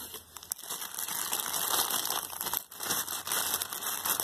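Plastic bag crinkling as a Lineaeffe Vigor Carp 40 Freespool fishing reel is unpacked, a continuous close rustle and crackle with a couple of brief pauses, no talking.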